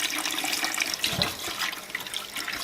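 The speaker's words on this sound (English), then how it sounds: "Now we're going to want to cover these beets with water." Tap water runs steadily into a tall soup pan holding beets for canning, a continuous close splashing rush with no talk.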